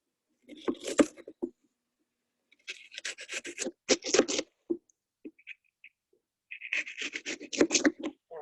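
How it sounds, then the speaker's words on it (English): Bursts of scraping, rasping cuts from a knife mincing onion on a board, irregular and close, with pauses between short runs of chopping. "I'm just chopping, like mincing up my onion"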